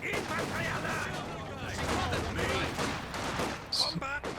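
Gunfire crackles through a Company of Heroes 2 battle with a sniper and an officer engaged, scattered sharp reports and rattling bursts mixed with game effects under continuous talk.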